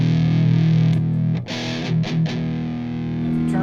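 Electric guitar played through an Amptweaker FatMetal Pro distortion pedal: a thick, heavily distorted sustained chord rings out, then a few choppy, muted strums follow before the tone settles into a held, buzzing note.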